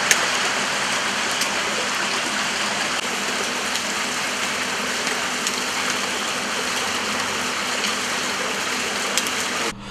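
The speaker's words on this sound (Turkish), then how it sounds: "Ara ara sağanak şeklinde yağan yağmur, yer yer vatandaşlara zor anlar yaşattı." An intermittent rain shower pours down steadily outdoors, a dense, loud hiss of falling drops spattering on surfaces with no break throughout.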